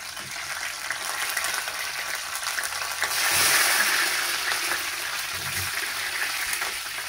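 Eggplant pieces fry in hot oil in a pan, giving a continuous crackling sizzle that swells louder for a moment midway before settling back to a steady hiss, with no voices.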